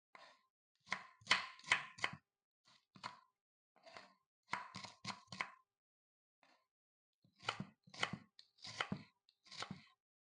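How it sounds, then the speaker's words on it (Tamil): Quiet, rapid knife strokes slicing onions against a cutting board come in short bursts separated by brief pauses. "வெங்காயத்தை ஸ்லைஸ் பண்ணுங்க."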